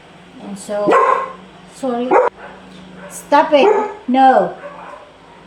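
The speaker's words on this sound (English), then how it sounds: "I'm sorry about the noise, guys. I have a very large dog" A large dog barks close and loud in several separate bursts, mixed with yips and whines, while a person talks over it and tries to quiet it.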